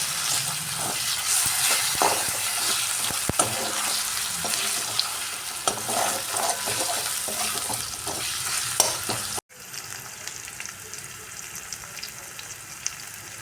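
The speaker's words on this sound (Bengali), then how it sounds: "আদা রসুন আর পেঁয়াজটা খুব ভালো করে ভেজে নেব" Ginger-garlic paste and onion stir-frying in a pan for a chicken dish, a dense, loud sizzle with spatula scrapes that cuts off briefly and then resumes as a quieter, steady frying hiss.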